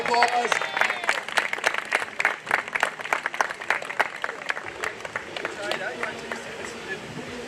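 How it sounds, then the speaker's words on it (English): Crowd applause at an outdoor lumberjack show, dense rapid clapping that starts loud and gradually thins out, with a background murmur of voices. "let's give her a nice round of applause."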